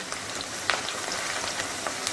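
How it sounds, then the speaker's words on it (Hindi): Onions fry in a pan with whole garam masala, a steady crackling sizzle with tiny pops throughout, close and alone without talk. "और फिर प्याज को फ्राई करूँगी"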